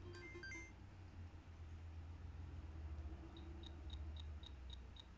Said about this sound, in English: And the picture is taken